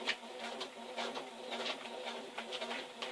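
Sewing machine running a back stitch, a quiet rhythmic mechanical whirring and patter with repeated pulses that stays steady under a faint room hum.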